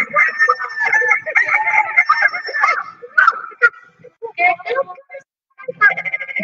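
A voice imitates a hen's clucking in short, bright bursts during an online class, with an adult speaking nearby and a brief laugh.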